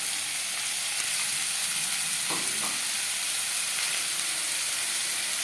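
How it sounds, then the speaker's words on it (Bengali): Chopped onion and ginger-garlic paste frying in refined oil for a chicken momo filling, giving a steady close broadband sizzle with a brief stirring scrape midway and no talk. "এবার দিয়ে দেবো পেঁয়াজ কুচি আর দিয়ে দেবো আদা রসুনের পেস্ট"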